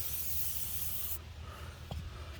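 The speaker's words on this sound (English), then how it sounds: "WD-40 it. just so it's easier." WD-40 sprays onto a front strut of a 2007 Lincoln MKZ in one close, steady hiss lasting about a second before cutting off, followed by faint handling noises and a small knock.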